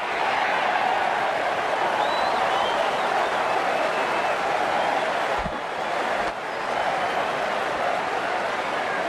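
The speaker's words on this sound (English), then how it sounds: "The crowd are loving this." A crowd at an England vs Australia T20 cricket match applauds and cheers in a dense, continuous wash of clapping and noise that holds steady and loud throughout, briefly dipping once.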